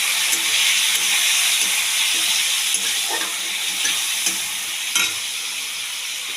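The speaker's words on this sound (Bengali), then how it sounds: "আমি একটু জল দিয়ে কষাবো আর দিয়ে দিচ্ছি টমেটো" Tomatoes and spices, with chilli and cumin powder and a splash of water, sizzle loudly and steadily in a hot pan, with occasional stirring scrapes and sputters throughout.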